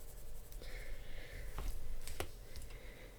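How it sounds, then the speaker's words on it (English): Close, quiet scratching of a Polychromos colored pencil on paper under light pressure, a faint rasp broken by a few sharp taps and clicks, with no speech. "You can hear me scratching away on the paper there."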